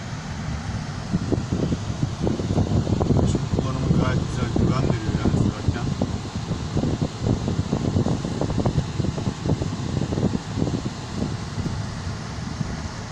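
A steady whooshing blast of air from a Range Rover Vogue's air conditioning fan runs continuously, loud and close, with some faint rustling on top.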